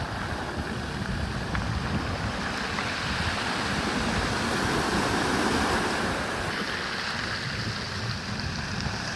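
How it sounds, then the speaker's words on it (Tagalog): Strong sea waves roll in at sunset in a steady, surging roar that swells and eases without a break, with no voices over it. "Lakas ng alon."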